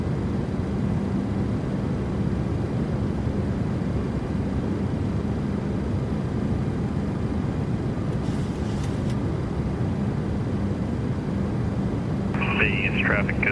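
A PMDG 737-700 airliner in a flight simulator game produces steady, loud broadband engine and airflow roar throughout, with a brief higher hiss and a short tonal chime near the end.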